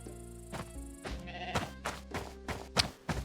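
Sheep bleat in an Egyptian village-building video game, several short, wavering bleats in an uneven series over a backdrop of sustained musical tones.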